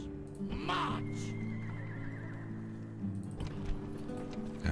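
Horses whinny loudly in the battle game Rome: Total War, a couple of shrill neighs over a steady background with faint hoof clip-clop and soft game ambience.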